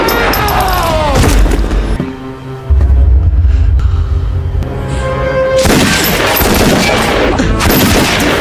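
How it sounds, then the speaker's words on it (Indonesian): Gunfire from a shootout in an action film comes in loud, dense bursts at the start and again near the end, mixed into a busy movie soundtrack with a quieter, tonal stretch in between. "Terjadilah baku tembak di antara mereka."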